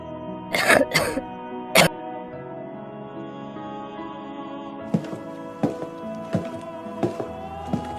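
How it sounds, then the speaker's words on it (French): In an animated scene, a person coughs sharply two or three times close up, then clears their throat. A quieter string of soft thumps and small coughs follows over a faint background hum. "Vous semblez tousser."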